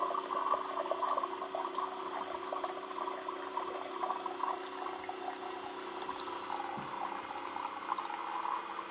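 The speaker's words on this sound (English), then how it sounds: "we still have to do a fresh water rinse" Water runs and pours steadily from a Keurig K-Compact single-serve coffee maker during a fresh-water rinse, a continuous splashing stream with a faint hum beneath it.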